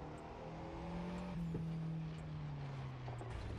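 The engine of a Fiat 500 Abarth in the racing game The Crew 2 hums steadily and drones at a sustained pitch that slides slightly, with a brief sharp sound midway, moderately loud and without speech.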